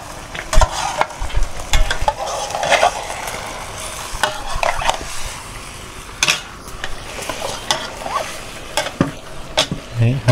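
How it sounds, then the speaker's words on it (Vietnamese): Meat being stir-fried in an open pot over a home stove, with steady sizzling and repeated scraping and clanks of a utensil against the pot, close and fairly loud throughout. "Để xào cho nó săn lại đó."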